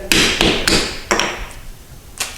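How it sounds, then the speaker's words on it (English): Hammer blows knocking the end blocks off a cut hollow core door: five sharp, loud strikes at irregular intervals, with a fainter knock after a pause near the end. "the way you do it is just take a hammer and just hit it"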